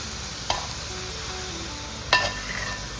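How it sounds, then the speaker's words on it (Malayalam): Pork and sautéed onions sizzle steadily in a pan, with two sharp scraping stir strokes about a second and a half apart, close and without speech. "അത് ഈ വഴറ്റി വെച്ചിരിക്കുന്ന ഈ ഉള്ളിയും ഇതിൻ്റെ കൂട്ടിലേക്ക് നമ്മൾ ഇടുക. നന്നായി ഇളക്കി യോജിപ്പിക്കുക."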